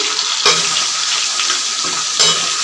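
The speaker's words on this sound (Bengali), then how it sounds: "আলুটা একটু ভাজা ভাজা হোক" Potatoes and mixed vegetables frying in hot oil in a pan, a loud, close, continuous sizzle with two sharper bursts as the pieces are stirred, no voices.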